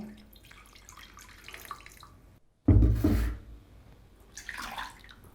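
A sudden gush of water splashes into a pot of pepper garlic rasam for about half a second, loud and close, then trails off into quieter kitchen clatter.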